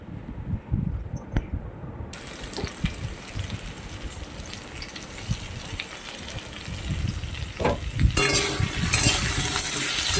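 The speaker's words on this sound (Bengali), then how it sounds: "ওই তেলের মধ্যেই দেবো, কারণ তেলটা যখন রয়ে গেছে তখন ওর মধ্যে আমি আলুগুলো দিয়ে দেবো" Cut potatoes dropped into leftover hot oil fry with a crackling sizzle, punctuated by stirring clatter and a louder surge of hissing toward the end, with no talk.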